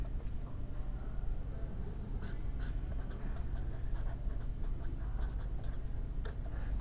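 Chalk or marker strokes scratch out an equation on a board during a heat-transfer lecture on forced convection, quiet intermittent scraping taps over a steady low room hum.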